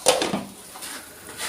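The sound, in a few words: lid lifted off a cooking pot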